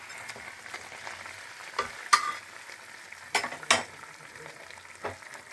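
Two tilapia fish sizzling and bubbling in a pan for a mustard curry, with a continuous frying hiss broken by several sharp clinks and scrapes of a utensil nearby.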